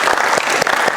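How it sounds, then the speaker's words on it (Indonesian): Applause in a school setting, with dense, steady hand clapping from a group filling the whole moment at close range. "tepuk tangan."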